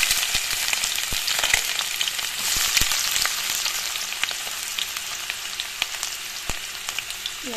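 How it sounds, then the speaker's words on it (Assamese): Onions fry in hot oil in a pan for a fish curry, giving a steady, close sizzle with scattered pops and crackles and no talking. "অলৰেডি মই তেল গৰম হ'বলৈ দি দিছোঁ। ইয়াতে এতিয়া পিঁয়াজখিনি দি দিম।"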